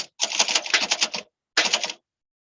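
Typewriter on a table being typed on: a fast, loud burst of clattering keystrokes for about a second, a brief pause, then a shorter second burst of rapid strikes, close and alone.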